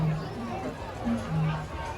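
A rainy weekend crowd murmurs at Disneyland, a busy babble of voices and footsteps close around, with one person speaking nearby.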